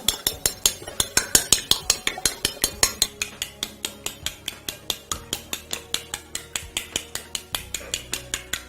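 A whisk beats eggs and milk in a bowl, a fast, steady run of sharp clinking strokes, close and loud, quickening at first and then settling into an even rhythm with no talking.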